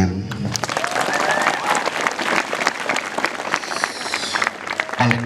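An audience at a religious talk breaks into applause, dense, loud clapping from a crowd filling the space for several seconds, with a few voices calling out over it.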